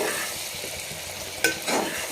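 Bottle gourd pieces sizzle softly in a pan, with a brief louder scrape of stirring near the end.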